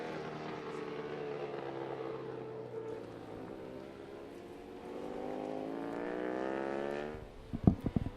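A Ducati supersport motorcycle racing at Laguna Seca howls past, its rising and falling engine pitch sweeping as it climbs and shifts, then ending in a few sharp clacks.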